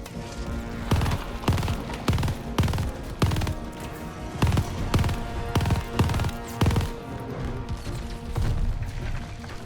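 Heavy turret gunfire from Call of Duty: Vanguard, loud repeated bursts of rapid shots with short pauses between them, close and dominant throughout with no talking.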